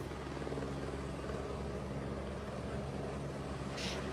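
A helicopter's steady droning rotor thump and engine whine during a filmed Navy SEAL raid on a yacht, continuous and fairly distant, with a brief hiss near the end.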